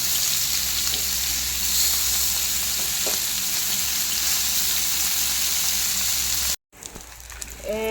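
Fish sizzles loudly and continuously in hot oil, a dense steady crackle that cuts out abruptly near the end and then resumes more faintly with a few scraping sounds.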